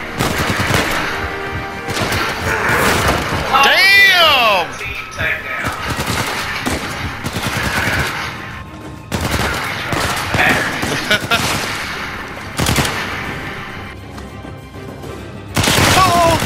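Repeated gunfire bursts from a shootout in the video game Uncharted 4, loud and close, with rapid machine-gun rattles and heavier booms spread across the scene while players talk over the action.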